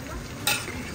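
Kebab pieces frying in a pan give a soft, steady sizzle with a brief burst of stirring midway, heard close and alone.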